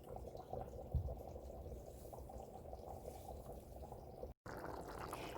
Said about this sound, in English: I'm going to add this beautiful chili sauce